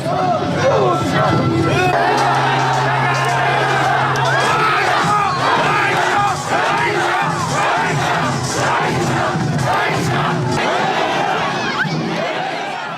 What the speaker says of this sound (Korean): 신호와 함께 수만 명의 함성이 울려 퍼지고 사람들은 온 힘을 다해 줄을 당긴다.